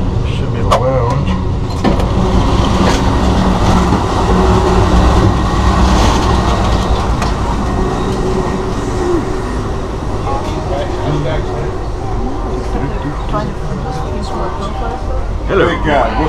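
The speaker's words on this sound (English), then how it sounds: "Welcome to the auto train." An Amtrak Auto Train rolls on its rails, heard from inside as a loud, continuous rumble with faint rhythmic clicking, while people talk over it.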